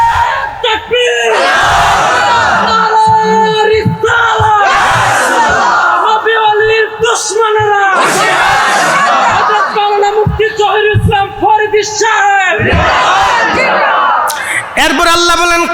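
A large crowd at an Islamic sermon gathering responding to the takbir call, roaring Allahu Akbar in loud, repeated surges of massed voices, several waves in a row, very close and full.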